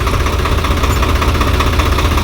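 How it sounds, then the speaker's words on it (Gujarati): A tractor engine runs steadily and loudly nearby, a continuous rough mechanical drone with faint knocking, while the tractor reverses with a full load of soil. "જો પાછી ટ્રેક્ટર બેક પાડી દીધી."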